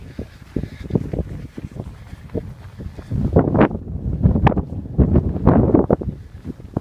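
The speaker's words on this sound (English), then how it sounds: "It's quite windy, it's wet, it's cold" Gusty wind in wet, cold weather outdoors buffets the microphone in uneven, roaring bursts that grow stronger partway through, with no talking.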